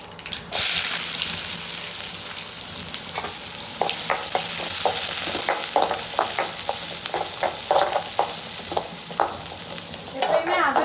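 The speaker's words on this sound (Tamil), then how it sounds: "எண்ணெய் காஞ்சிருச்சு, கடுகு போட்டுக்கலாம். கொஞ்சமாக ஜீரகம். இப்போ வெங்காயத்தையும் மிளகாயும் சேர்த்துக்கலாம்." Mustard seeds, cumin, onions and green chilies sizzle and fry in hot oil for a Tamil vatha kulambu, a steady close hiss broken by popping crackles and stirring scrapes.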